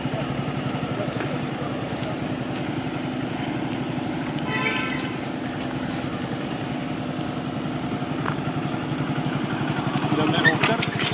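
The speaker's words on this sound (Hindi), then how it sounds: "सेकंड गियर में जा रही है" A motorcycle engine runs steadily at moderate revs in second gear, a continuous throaty drone that swells slightly near the end.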